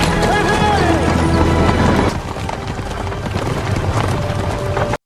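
Horse-drawn carriage hooves clip-clop in a steady rhythm within a busy film soundtrack, with a dense mix of music and effects that thins after about two seconds while the hoofbeats continue.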